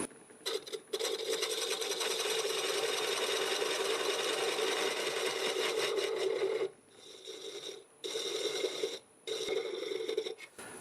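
Wood lathe turning a segmented wood bowl held in coal jaws while a tool cleans up the inside recess, a steady loud scraping whir that breaks off briefly several times near the end, with no talking.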